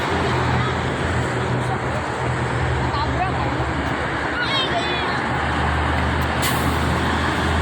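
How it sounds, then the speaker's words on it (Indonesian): Heavy traffic rumbles along the Jakarta–Cikampek toll road on a Sunday morning as a tow truck passes, with a steady low engine drone, a brief air-brake hiss and people chatting nearby. "Itu mah mobil derek"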